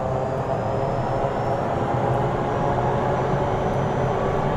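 Airliner engines in Flight Simulator 2024 spool up for takeoff as a loud, steady, full-bodied roar that holds at a constant level from start to finish, with no voices over it.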